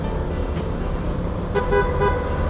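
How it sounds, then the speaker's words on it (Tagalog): A car horn honks in a few short toots while entering Cabian Tunnel on a road trip toward Batangas, steady road and engine rumble underneath, no talking. "bumusina kasi meron daw ditong hindi nakikita na nakaharang"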